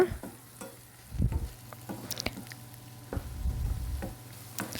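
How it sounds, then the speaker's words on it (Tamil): Onion paste sautéing in a pan for a fish curry gives a steady close sizzle, with bursts of stirring and scraping around the two- and four-second marks; no voices. "இந்த வெங்காய பேஸ்ட்டை சேர்த்த பிறகு நல்லா நம்ம ஒரு 5-6 நிமிஷம் நல்லா வதக்கி விட்டுக்கணும்."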